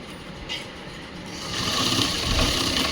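A sewing machine stitches a cut blouse with a steady, noisy mechanical whir that grows louder and denser partway through, with no voices.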